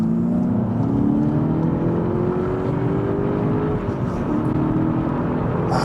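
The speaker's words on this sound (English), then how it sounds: "we've got a acceleration opportunity coming up" A Seat Ibiza Cupra Black accelerates hard from inside the cabin, its engine note climbing steadily in a loud, continuous rising drone with road and wind roar beneath.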